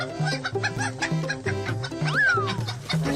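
In a Motu Patlu cartoon about a kabaddi match, a chicken clucks in quick, repeated bursts that form a busy rhythm, with one rising squawk partway through and light cartoon laughter mixed in.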